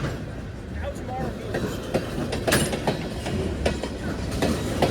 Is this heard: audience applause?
no